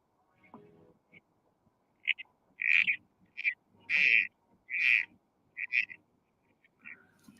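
A corroboree frog from the sphagnum bogs of Kosciuszko National Park gives a series of short, squelchy grating calls, several spaced bursts in a row, close and fairly loud against a quiet background.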